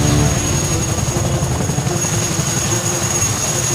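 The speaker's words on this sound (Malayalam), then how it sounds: "ഇന്ത്യ തദ്ദേശീയമായി വികസിപ്പിച്ചെടുത്ത രാജ്യത്തിന്റെ സ്വന്തം ലൈറ്റ് കോമ്പാക്ട് ഹെലികോപ്റ്റർ" HAL Prachand light combat helicopter, an Indian-built attack helicopter, flying close by with a loud, steady rotor thump and engine whine that holds constant, with no one talking.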